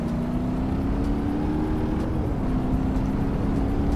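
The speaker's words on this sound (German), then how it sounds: "Ja, der beschleunigt richtig." A car's engine drones loudly and steadily in the driving simulator game BeamNG.drive, a sustained near tone with a constant road rumble beneath it and no talking.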